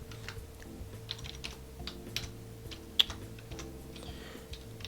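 Close, uneven typing on a computer keyboard while entering an Excel formula, scattered soft key clicks with one sharper tap, over a faint low hum and with no talking.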